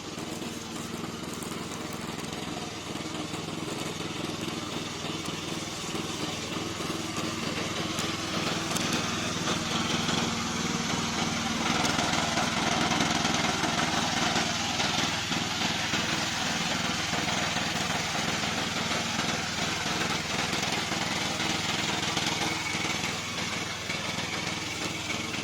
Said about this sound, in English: Today I'm going to introduce our remote control lawn mower.